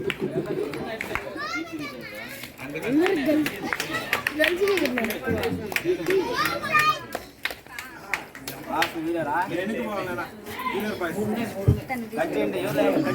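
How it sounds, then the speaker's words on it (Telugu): Clapping from an audience at a Vinayaka Chavithi prize distribution is heard under loud children's chatter and voices, scattered and mixed with the noise of the crowd throughout. "claps claps"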